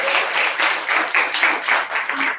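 An audience at an inter-school debate between Wesley High School and Convent High School applauds the school's principal and debate coach, producing a brisk, even patter of many hands clapping close by with no talk.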